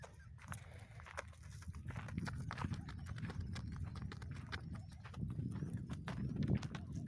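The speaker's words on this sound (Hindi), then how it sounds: "तो देखिए दोस्तों क्या चाल है घोड़ी की" A mare walks in a village in Kutch, Gujarat, her hooves clip-clopping in a steady, rhythmic gait, moderately close and fairly quiet, with no talking.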